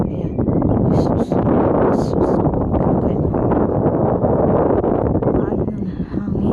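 Strong wind buffeting a microphone outdoors on a cold day in France, a loud steady roar with gusty rumble filling the whole stretch, and a voice speaking briefly over it.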